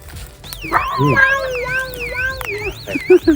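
An electronic alarm in a calamansi farm wails in a fast, repeating up-and-down sweep, high and insistent, while a person talks over it close by.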